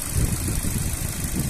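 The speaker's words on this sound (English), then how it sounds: "engine sound nice and smooth" A Ford Focus 1.6 petrol five-door hatchback with a manual gearbox idles close by, giving a steady, even low rumble with no revving and no voices.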